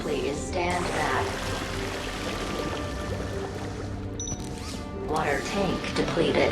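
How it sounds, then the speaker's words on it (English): A water sprayer in a sci-fi adventure video game hisses in a steady, loud rush of spray, swelling at the start and again near the end, with a brief electronic beep in between. "Commencing spray. Please stand back."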